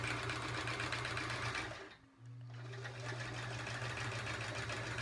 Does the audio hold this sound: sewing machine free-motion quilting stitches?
yes